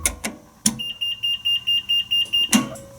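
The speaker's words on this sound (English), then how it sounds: "That was the fire service beeper." An Otis elevator control panel's fire service beeper sounds as a steady string of about nine short, evenly spaced high-pitched beeps, fairly clear, with a few clunks at the start and end and no talking.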